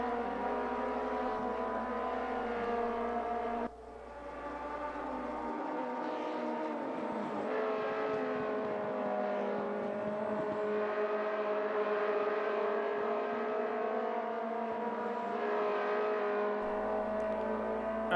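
Race car engines in a racing video game drone steadily with harmonic whine, rising and falling slightly as cars run, loud and continuous from start to finish.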